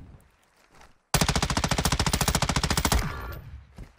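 M13 rifle in the video game Warzone 2 firing one long, loud, rapid automatic burst of about two seconds, evenly spaced shots close up, followed by fading echo and quieter game sounds.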